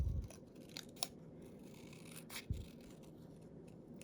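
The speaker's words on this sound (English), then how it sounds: "Remember when you're doing some fussy cutting that what you want to do is you want to turn the paper." Scissors snipping paper while fussy cutting out a shape for a handmade card; a few quiet, close crisp snips spaced irregularly against a faint room background.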